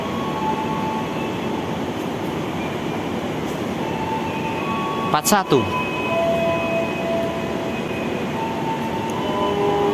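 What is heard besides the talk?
Motis Nataru train departing Purwokerto station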